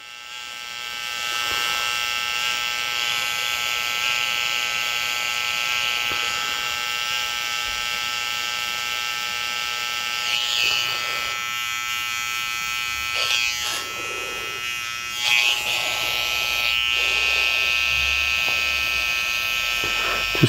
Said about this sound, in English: Just pulling the comb down into the hairline just to feed them hairs into the trimmer.